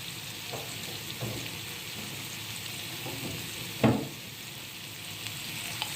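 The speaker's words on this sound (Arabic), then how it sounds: "رحت جايبه شويه زيت بسيطه خالص اهي، ورحت نازله بباقي التوم اللي احنا فارمينه" Minced garlic fries in a little oil in a pot for Egyptian fatta, producing an even hiss with occasional stirring scrapes and one louder knock near the end.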